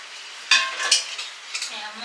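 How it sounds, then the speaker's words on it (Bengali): Luchi deep-frying in a kadai of hot oil during home puja cooking, a soft steady sizzle broken by a couple of sharp metal clinks and stirring scrapes close at hand. "লুচি ভাজা এখন চলছে"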